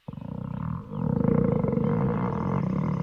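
A long, rumbling growl from a starving character's stomach, done as an anime sound effect, rolls on loud and continuous for about three seconds after a brief stutter, deep and roaring like a big cat, with no talking.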